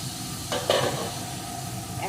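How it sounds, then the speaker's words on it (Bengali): Fried soybean chunks and potatoes go into simmering masala in a pan and are stirred, giving a short clattering splash and a burst of sizzle before a steady frying hiss settles back. No one speaks. "এখন এর ভিতরে আমি ভেজে রাখা সয়াবিন আর আলুগুলোকে দিয়ে দেবো"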